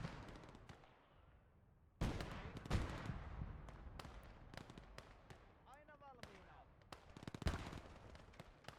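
A 45mm gun and other weapons firing in the video game Gates of Hell: Ostfront, sharp booming shots with some rapid bursts, loud against a battlefield background as a voice talks.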